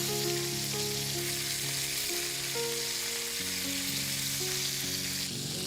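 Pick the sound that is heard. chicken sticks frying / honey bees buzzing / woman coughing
chicken sticks frying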